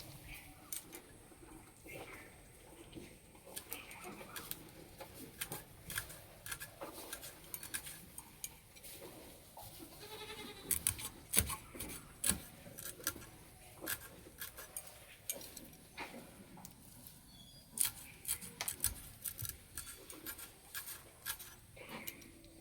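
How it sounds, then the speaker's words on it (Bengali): Lemon leaves being finely chopped with a knife on a cutting board for a spicy star fruit mash, giving close, quiet, irregular taps and scraping cuts throughout, with no talking. "এবারে লেবুর পাতাটা একদম ছোট ছোট করে কেটে নেব।"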